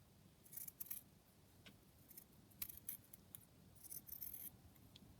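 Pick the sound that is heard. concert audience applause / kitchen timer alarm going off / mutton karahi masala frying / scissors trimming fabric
scissors trimming fabric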